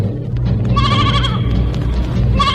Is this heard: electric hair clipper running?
no